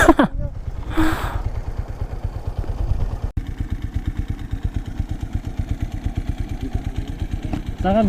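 A 100 cc motorcycle engine runs steadily, close and loud with a fast, even putter, on a ride through Aguilar, Pangasinan, with brief voices at the start.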